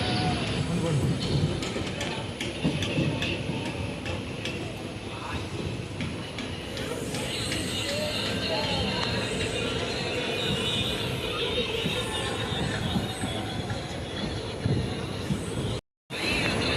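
The Sapthagiri Express passenger train between Tirupati and Chennai runs at speed, a steady loud rumble and rattle heard from inside the coach, with a faint murmur of voices beneath and a momentary dropout near the end.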